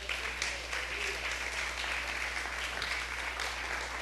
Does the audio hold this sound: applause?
yes